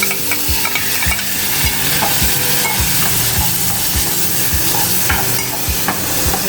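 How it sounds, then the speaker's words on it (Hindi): Chicken and green chillies fry in hot oil in a pan, a loud steady sizzle running throughout with stirring scrapes and soft clatters at an irregular rhythm, close up and with no talking. "अब इसके अंदर भी फ्राई करेंगे"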